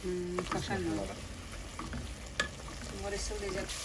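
Shrimp curry frying in a pan while being stirred, a soft, steady sizzle broken by light scraping strokes, fairly quiet and close.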